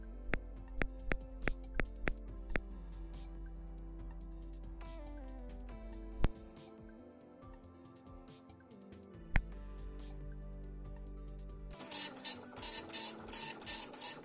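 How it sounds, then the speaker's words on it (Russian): A dot matrix printer driven by a ZX Spectrum in Epson-compatible mode prints in bursts of sharp, rhythmic buzzing strokes with pauses between lines, then ends in a fast run of rapid, loud repeated chattering passes. "такая классная тема эти матричные принтеры. Быстро печатают, приятно скрипят"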